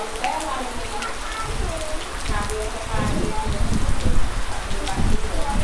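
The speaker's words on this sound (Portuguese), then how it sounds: "E chuva, muita chuva." Heavy rain pours down during a town festival in the afternoon, a loud, dense, steady hiss of drops hitting surfaces, with voices talking faintly beneath it.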